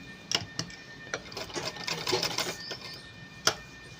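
Sewing machine running at full speed, stitching folded extra fabric into a seam; a steady mechanical whirr with a few sharp ticks and clacks, close and fairly quiet.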